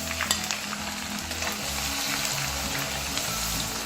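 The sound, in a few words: ground onions and garlic frying in a pan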